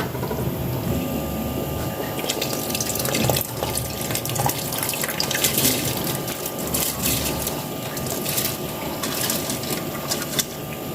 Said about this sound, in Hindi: चावल मैंने डाल लिए हैं।